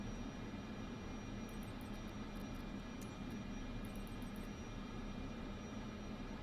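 Aircraft engine in the video game Microsoft Flight Simulator 2024, a steady low droning hum with faint high clicks scattered over it, constant and fairly quiet, no speech.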